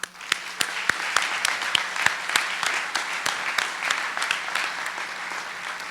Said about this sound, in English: I think we owe them another round of applause